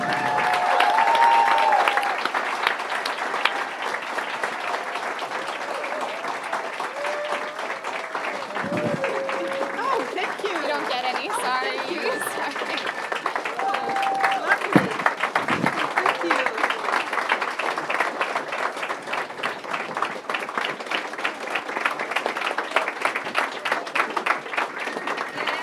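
Long, sustained applause from an audience at an art and activism event, dense and steady for the full stretch, with occasional voices and whoops rising above the clapping.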